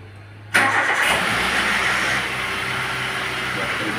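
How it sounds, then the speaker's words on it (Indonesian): A car engine in neutral cranks and catches, a sudden loud start that settles into a steady mid-pitched idle without revving. "Hidupkan mobilnya, kita tidak usah digas-gas dulu ya"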